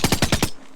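An MP5 submachine gun firing in the Minecraft Flans Mod game: a quick burst of five evenly spaced, loud shots, then a short fading tail.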